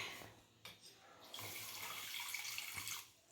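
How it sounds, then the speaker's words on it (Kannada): Water is poured in a home kitchen to grind with mango for a baby's food, starting with a few light splashes before a steady, close gushing stream runs until near the end. "ಈಗ ನೀರು ಇಟ್ಕೊತಾ ಇದ್ದೀನಿ ರೀ"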